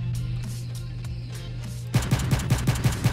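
Rapid pistol gunfire in the video game World at War Zombies, about seven sharp shots in quick rhythm following a stretch of quieter game ambience.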